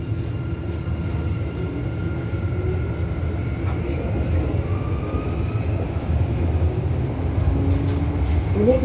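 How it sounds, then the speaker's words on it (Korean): A Sillim Line light rail train pulls away with a steady low rumble and hum inside the car, a constant even drone with faint tonal whines rising slightly as it departs. "열차 곧 출발합니다."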